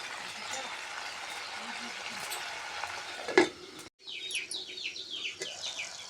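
Mushroom curry with coriander powder cooks in a pan, a steady sizzle broken by a sharp knock and a short cut, with birds chirping nearby and some talk in the background.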